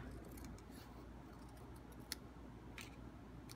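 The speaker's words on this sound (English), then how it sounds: "I'm just going to cut like right next to them. I'm going to trim this side" Scissors trimming stamped words from cardstock make a few faint, quiet snips spread across a soft steady background hiss.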